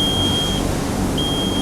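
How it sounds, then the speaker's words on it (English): A truck's warning buzzer sounds after the key is switched on, a steady high electronic tone that cuts out briefly and resumes over a constant low engine-bay hum, with no talk. "You're going to hear that beep."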